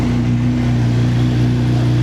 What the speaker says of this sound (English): obviously it's got an arrow exhaust on there, so yeah, it sounds absolutely brilliant